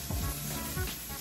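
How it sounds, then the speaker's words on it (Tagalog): Garlic and ginger sizzle in a hot pan, a steady low frying hiss running close and alone through the short moment. "Garlic, ginger guys, labay ko na tayo."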